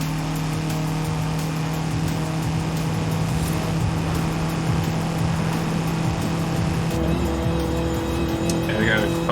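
A car engine in the video game Forza Horizon 5 hums steadily with a low drone, revving slightly throughout, while a voice talks over it.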